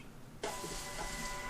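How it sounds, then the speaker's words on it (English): A Star TSP 100 receipt printer starts abruptly and runs with a steady whirring, buzzing print sound for just over a second, close and fairly loud. "that sound is the receipt printer going off"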